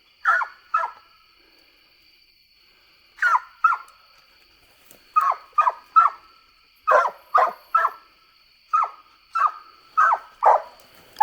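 A coonhound bays and barks in short repeated bursts, some paired, heard from a distance over a faint steady whine, during a night coon hunt.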